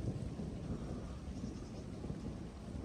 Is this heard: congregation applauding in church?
no